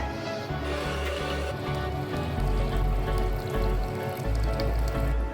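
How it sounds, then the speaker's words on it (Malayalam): Mustard seeds splutter in hot oil for a tempering over beef varattiyathu, making a dense patter of quick pops and crackles like rain. A low background hum is steady beneath it, and no one speaks. "അത് കടുക് താളിച്ച് കൊടുക്കാം."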